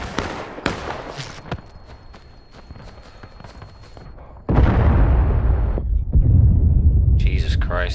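Artillery fire and explosions in War of Rights, a Civil War shooter, with people talking over distant thuds that give way to a loud, sustained roaring barrage of booms in the second half.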